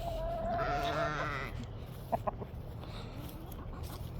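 Sheep bleating and chickens clucking outdoors on a farm on a cold morning, a drawn-out bleat first, then scattered soft clucks and rustling at moderate distance.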